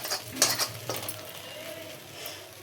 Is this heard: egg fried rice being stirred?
yes